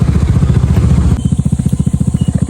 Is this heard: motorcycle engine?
yes